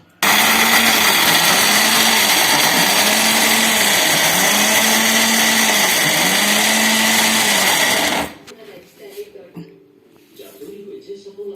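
A mixer grinder whirs loud and steady for about eight seconds, powdering dry dates, makhana and dried coconut, then cuts off. Faint clatter and handling noise follow in the quiet.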